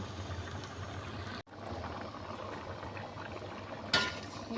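Dal with green chillies bubbles at a steady boil in a pot, a dense close simmer broken by one sharp brief cut and a short splashy burst near the end, with no talking.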